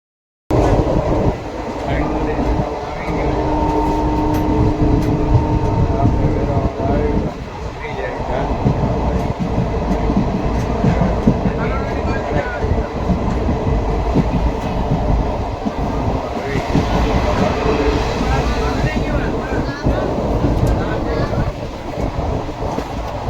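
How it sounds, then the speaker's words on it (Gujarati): Vande Bharat express train running on the Rajkot to Veraval route, heard from inside: a steady loud rumble and rail clatter filling the whole span, with faint background noise of the carriage. "છેવટે ટ્રેન હાલતી રહી તો સારી વાત છે"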